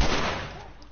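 Gunfire in The Last of Us: a loud burst of broadband shot noise at the start, decaying over under a second with a dense rattling tail, no clear speech.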